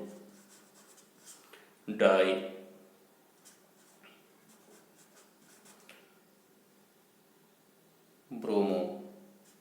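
Chalk or marker scratches on a board in two short bursts while a teacher explains chemistry in Bengali, with steady speech running through the quiet stretches between strokes.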